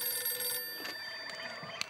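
A telephone rings with short electronic trills against a faint background, heard briefly before anyone answers.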